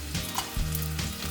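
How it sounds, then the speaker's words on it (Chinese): Rock sugar fries in hot oil in a wok to caramelize, a dense close sizzle with a few stirring scrapes. "这边油热了，可以下一点冰糖来炒糖色"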